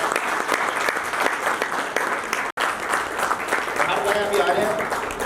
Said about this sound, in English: Can we have a big round of applause for Rohit here?